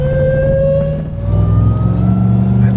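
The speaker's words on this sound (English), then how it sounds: "I love that supercharger, man. Yeah, it sounds so good." Supercharged Hennessey Mammoth 1000 TRX pickup truck engine idles with a steady supercharger whine, then revs up midway into a louder, deeper rumble, close and loud.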